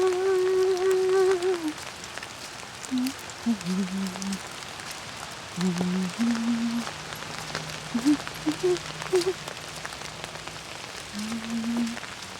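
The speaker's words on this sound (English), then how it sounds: "Rainy day in Georgia." Rain falling on the Birchmore Trail along a forest in Athens, Georgia, giving a steady soft patter throughout, while a nearby voice talks intermittently over it.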